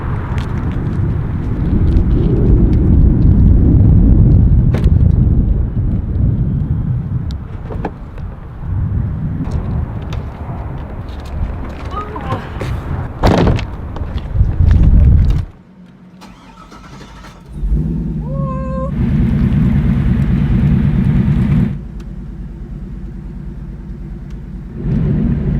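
Devel Sixteen car engine rumbling at idle, revving, briefly cutting out, then starting again with a loud bark and settling into a deep throbbing idle before driving off, all close and loud.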